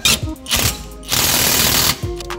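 A bolt being refitted on a project car, heard as quick bursts of ratchet clicking and a power tool whirring in short runs, loud and close with brief pauses between.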